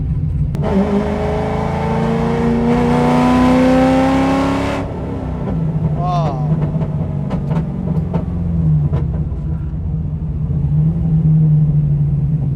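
A cammed Chevrolet Corvette C6 heard from inside the car, a loud rising engine rev that climbs and drops off, then a rough lumpy idle rumbling steadily, with a brief exclamation from an occupant.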